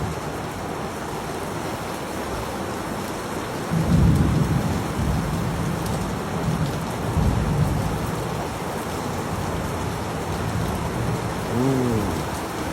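Heavy rain pours in a dense, continuous roar on surfaces outdoors. Low rumbles of thunder swell in now and then, with no talking.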